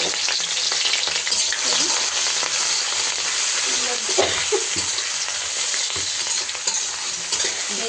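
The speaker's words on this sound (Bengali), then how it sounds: "তেলটা গরম হয়ে গেছে এখন পেঁয়াজ কুচি রসুন কুচি আর বেশি করে কাঁচা মরিচ কুচি রাখছি" Chopped onion, garlic and green chili hit hot oil with a loud, constant sizzle, close up, broken by stirring scrapes throughout, with no voices.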